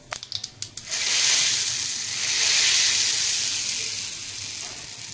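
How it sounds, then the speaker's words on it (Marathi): Cumin seeds hit hot oil for a fasting chutney tempering on low gas: a few sharp crackles at first, then a loud, sustained hissing sizzle that swells and gradually eases. "मी जिरं घालून घेते, गॅस बारीक केला"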